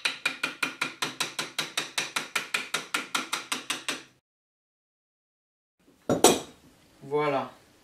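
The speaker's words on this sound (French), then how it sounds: "je vais prendre le manche de mon marteau et je vais taper sur mon tube" Wooden hammer handle tapping a sand-filled copper tube being prepared for bending, a fast, even series of about twenty bright metallic knocks, close and clear, then a pause before a brief clatter and a short voice.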